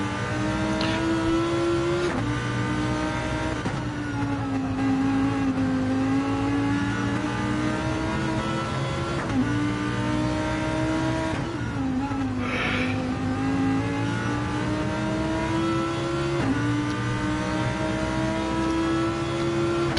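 A BMW V8 race car in a racing video game set at Monza revs loudly and continuously, its engine note climbing and dropping through gear changes over a steady, close roar.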